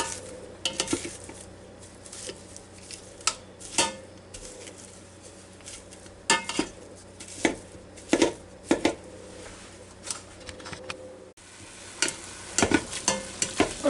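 Ground meat simmers in a single pot for spaghetti and meatballs, a low bubbling hiss broken by repeated spoon scrapes and clanks against the pot as the meat is broken up.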